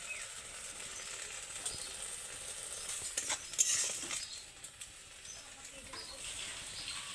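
Poppy seed and peanut paste, salted and without turmeric, bubbling in a pan for a raw banana dish gives a faint, steady sizzle with light stirring scrapes throughout.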